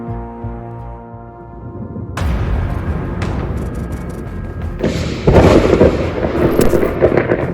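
Low thunder rumbles and booms roll in after a quiet tonal opening, growing louder with heavy crashes toward the end.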